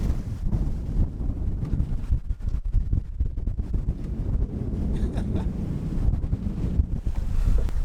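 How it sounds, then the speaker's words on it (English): Strong wind gusts over a sailboat under way at sea, buffeting the microphone with a loud, rumbling roar, with the wash of waves and hull movement underneath. "It's just a lot of wind, really."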